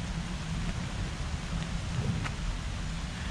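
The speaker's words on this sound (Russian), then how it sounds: "первый раз пошел дождик." Steady rain falling outdoors in a German town on a late-summer day, a continuous dense hiss with low rumble and a few brief louder drop ticks, no voices.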